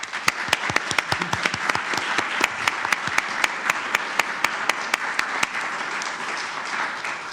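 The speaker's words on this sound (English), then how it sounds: "They may receive a round of applause." Applause for two candidates at the close of an October 2021 debate, a full room clapping steadily with sharp individual claps standing out in a rhythmic pattern, fairly close and loud, with no talking over it.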